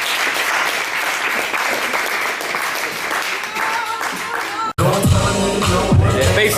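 An audience claps during a break in a live talk show recorded at a bar, with steady dense applause, a brief cut, then clapping mixed with crowd noise and cheering.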